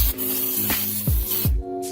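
Brake cleaner hisses from an aerosol can onto plasti dip on a car in short close bursts, with a few brief spurts interrupting a steady spray and no talk over it.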